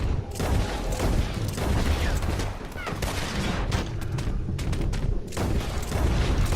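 Rapid gunshots from hip-fired dual firearms in Red Dead Redemption 2, a dense, loud fusillade of overlapping shots with booming reports that continues almost without pause.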